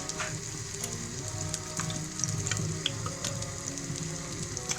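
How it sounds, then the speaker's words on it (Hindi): Cheese omelette cooking in a pan over low heat, giving a steady, moderate sizzle with scattered crackles and pops throughout, with no voices. "अब हम इसको हल्की आंच में पकाएंगे अच्छे तरीके से।"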